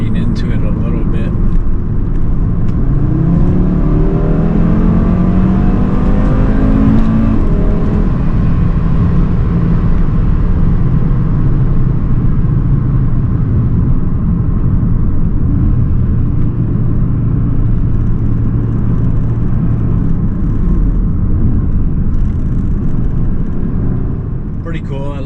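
A 2019 Audi RS3 engine rumbles loudly and rises in pitch as it accelerates, then settles into a steady drone with a voice talking over it.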